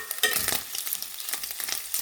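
Potatoes fry in a pan for a scrambled egg, fried potato and ham breakfast, a steady broadband sizzle with scraping stir strokes through it, close and fairly loud, with no voices.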